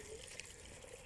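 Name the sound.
water flowing from a mountain fountain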